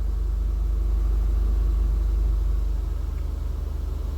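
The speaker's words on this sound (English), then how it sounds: "I got it hot and it's idling, and I'll speed it up here and there" A warm Honda Accord V6 with a suspected leaking injector and misfire idles with a deep, close rumble, rising slightly as it is revved a little partway through.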